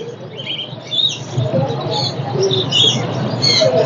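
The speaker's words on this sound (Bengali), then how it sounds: "এদিকে পায়রা" Pigeons coo and chirp among other birds at a busy bird market, with a mix of soft coos and higher twittering calls over a bustling background.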